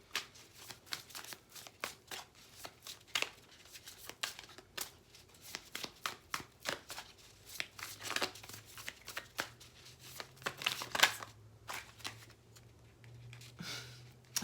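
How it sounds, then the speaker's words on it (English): A deck of tarot cards is shuffled by hand in repeated quick riffles and flicks, close and fairly quiet, with no talking over it. "I am going to shuffle the cards out first, so if you don't like the shuffling, please fast forward"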